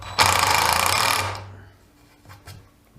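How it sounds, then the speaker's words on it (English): A DeWalt DCF815 impact driver drives small screws in one loud, rattling, close burst of about a second, which trails off into quieter faint clicks. "This is just to see whether or not the impact itself can actually cope with smaller screws."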